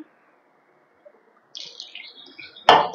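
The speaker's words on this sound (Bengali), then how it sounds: "এরপর আমি জল দিয়ে একটা ব্যাটার তৈরি করব।" Water poured from a container into flour for jalebi batter makes a short, close trickle and splash, rising into a brief gush near the end after near silence.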